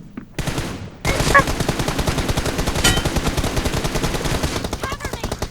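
Rapid automatic gunfire in a video game, a loud, dense burst of fast repeated shots that runs almost continuously for several seconds after a brief pause, with faint voices underneath.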